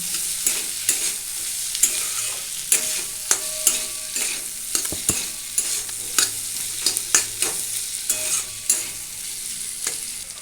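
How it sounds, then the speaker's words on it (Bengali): Mustard and ground spices fry in hot oil for a bitter gourd dish, a steady sizzle broken by regular sharp scrapes and taps of a spatula stirring the pan, close and clear with no talking. "সরষেটা দিয়ে গুঁড়ো মশলাগুলো দিয়ে একটু ভালোভাবে ভেজে নিতে হবে"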